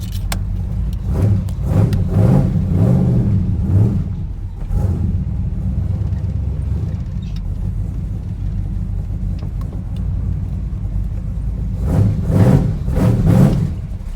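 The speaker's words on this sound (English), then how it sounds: "Sounds spectacular with those new mufflers" Squarebody Chevy dually truck with new mufflers, its engine rumbling steadily at idle and then revving hard in several quick bursts near the start and again near the end, loud and close, with no talk.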